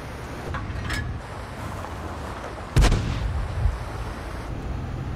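A single loud, booming tank gun shot from the World of Tanks video game, fired from a Hotchkiss EBR light tank. It comes mid-clip over a low, steady engine rumble, followed by a faint echo.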